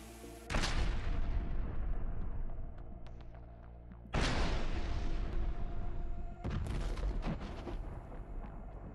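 Two anti-tank mines thrown into a shelter in a combat zone go off as heavy, roaring blasts. Three loud bursts, each with a long rumbling decay, follow one another close and strong.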